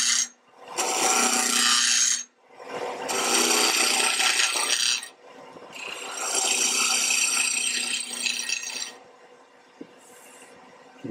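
A wood lathe tool cuts a tapered spindle in long passes, giving a loud, gritty scraping hiss that runs in three sustained bursts with short pauses between.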